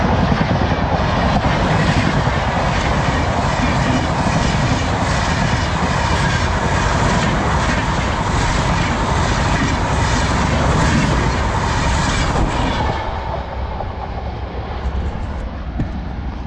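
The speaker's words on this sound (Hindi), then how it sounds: "दोस्तों ये है गंगा सतलुज एक्सप्रेस।" Ganga Sutlej Express, a passenger train of LHB coaches hauled by a WAP-5 or WAP-7 electric locomotive, roars past at close range as a loud, steady broadband rumble with rattling wheels, easing off toward the end.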